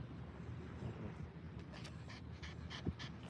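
A dog pants steadily and close by in a quiet outdoor setting during a yoga session, quick rhythmic breaths continuing alone with faint wind noise and no talking.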